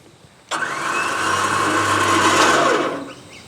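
A winch attached low on a fence end-assembly post pulls it, switching on abruptly with a loud mechanical whine and grinding that holds for about two and a half seconds, then cuts off.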